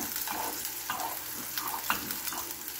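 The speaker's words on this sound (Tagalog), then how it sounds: "ngayon, magigisa po tayo ng ating bawang" Garlic sautéing in a pan for ginisang pechay with shrimps and egg, a constant close sizzle broken by repeated stirring strokes, with no voices.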